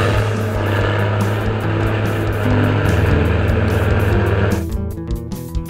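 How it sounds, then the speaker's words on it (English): A bulldozer engine drones loud and steady with a deep, sustained rumble and mechanical whine, then drops abruptly into a rougher, choppier idle near the end. "This is a bulldozer."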